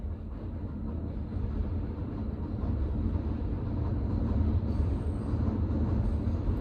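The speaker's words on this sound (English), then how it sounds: "That's the train." A train rolls past at a distance, a low steady rumble of wheels on track that builds gradually, with no talking.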